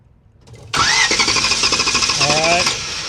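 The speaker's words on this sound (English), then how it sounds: "Terry, crank it over" A pace car's engine is cranked during a no-start diagnosis: a loud mechanical churn begins abruptly and runs steadily for about two seconds, then eases off.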